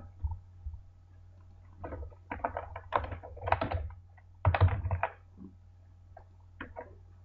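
Keys clack on a computer keyboard in irregular bursts of typing, quiet and close, with short pauses between runs and a low steady hum underneath.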